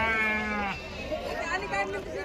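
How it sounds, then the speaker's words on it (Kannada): Sheep bleat loudly and repeatedly at a busy Sindhanur sheep market for Kenguri sheep, wavering calls overlapping one another close by, with crowd chatter and people talking underneath. "ಈ ರೀತಿ ಹಿಂಡ್ ಹಿಂಡಾಗಿ ಸಣ್ಣ ಮರಿ ಕಟ್ಟಿರ್ತಾರಲ್ವಾ ಆ ರೀತಿ ದೊಡ್ಡ ಕುರಿಗಳನ್ನು ಕಟ್ಟಿರ್ತಾರೆ"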